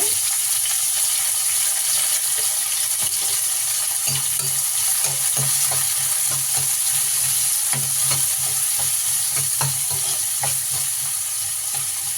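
Onions sizzling steadily in a pan of hot oil for a curry, a continuous loud frying hiss with occasional soft stirring scrapes, no talk.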